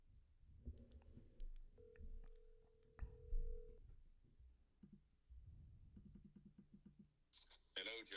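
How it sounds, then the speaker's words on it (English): An outgoing phone call rings on the line, heard as a steady tone followed by a burst of rapid repeated pulses, faint and interspersed with a person talking. "I'm calling Chris Rose"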